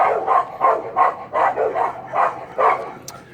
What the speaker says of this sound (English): Sorry, the dog noise.